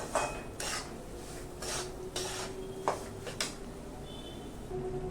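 Semolina being dry-roasted over a low gas flame in a pan makes repeated scraping strokes and soft clinks of a spoon against the metal, close and fairly quiet over a faint background hum.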